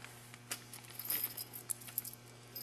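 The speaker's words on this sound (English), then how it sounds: "in each box, the cabinet, you got the keys that come off" Metal keys for a cabinet jangle and clink in quick irregular bursts, close by but soft, with a faint steady electrical hum underneath.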